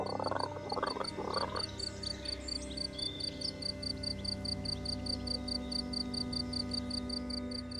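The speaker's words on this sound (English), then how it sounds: "The golden poison dart frog." A golden poison dart frog calls in Colombian jungle, its steady repeated pulses carrying over a dense chorus of insects and other frogs, constant and moderately near, with no voices.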